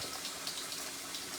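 Water runs from a kitchen tap while a jar of slurry is shaken under it, making a steady, close hiss that stays even throughout.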